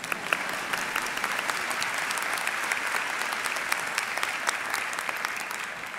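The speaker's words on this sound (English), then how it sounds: "yes, you can applaud" Steady, dense applause from a large audience at a university commencement ceremony for business school graduates, sustained and even throughout with no speech on top.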